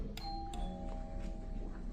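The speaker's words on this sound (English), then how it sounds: "this is your doorbell" A hotel room doorbell at a five-star hotel in Turkey chimes with a single ringing tone that sustains and decays, fairly quiet, over light background noise.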